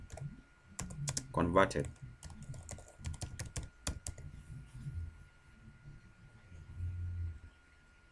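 Computer keyboard keys are tapped in a short run as a file name is typed, giving close, quiet clicks while someone speaks over part of it.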